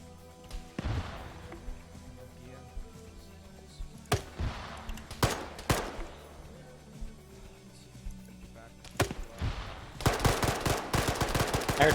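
Scattered gunfire during a Russian Spetsnaz operation in a military shooter game, isolated sharp shots at first, then denser rapid bursts toward the end, with some speech mixed in.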